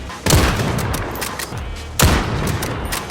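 Two loud, sharp sniper rifle shots in a video game, about two seconds apart, each followed by a rumbling echo tail.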